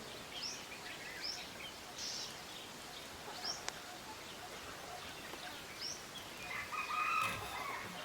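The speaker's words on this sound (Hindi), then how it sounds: "जंगली मुर्गा भी बोला।" A jungle fowl crows somewhere in the distance in the Tala zone of Bandhavgarh, amid outdoor hiss and scattered bird chirps, the strained call rising near the end.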